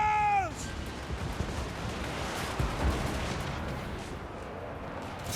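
Handgunner volley fire in Total War: Warhammer 2, a dense, crackling wash of distant musket shots rolling across a battlefield, opening with a brief whistling tone.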